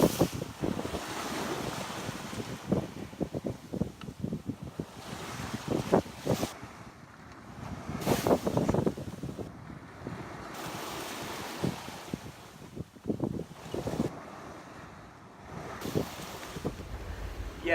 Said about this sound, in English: today, the wind was coming from the direction we're trying to go, which is not good